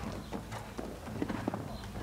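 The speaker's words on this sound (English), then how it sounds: "Well, the horse is certainly picking up here for Murray." Horse hooves drum in a quick, steady clip-clop at a women's individual modern pentathlon show jumping round at the 2015 world championships in Berlin, fairly close and continuous over an arena hum.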